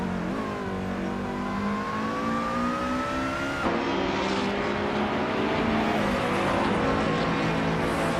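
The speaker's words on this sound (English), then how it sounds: "Gina Jones is driving a 24 Opel Corsa S1600" Opel Corsa S1600 race car engine in a racing video game, a steady high revving drone with a clear gear shift partway through, loud and continuous with no talk.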